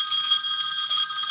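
A phone rings with a continuous bright electronic trill, steady and fairly loud throughout the short stretch, with no voices over it.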